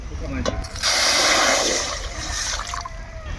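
Water pours into a wok, a short rushing splash lasting about a second amid a soft background murmur.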